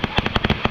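A short-fuse firework goes off at a Fourth of July gathering in a fast rattling burst of sharp, loud cracks, about six or seven pops in under a second, close by.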